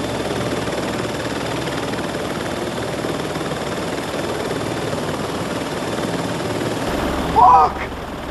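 A drone in the video game Watch Dogs 2 hovers with a continuous, even rotor-like whir that holds steady throughout, close and moderately loud, with a short voice near the end.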